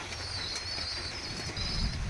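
Benarasi pigeons coo softly in a loft, a low murmuring drone held steady beneath faint higher bird calls, with no voices.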